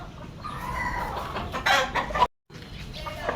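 Pure lemon bloodline gamefowl rooster clucking close by in steady bursts, with a brief sharp crow-like peak, a short dropout, then more clucking.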